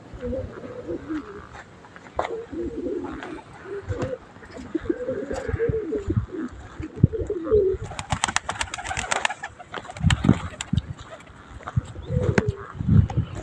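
Pet pigeons heard close by, with repeated soft cooing and calls, bursts of fluttering wingbeats around the middle, and some faint talk and movement noises in the background.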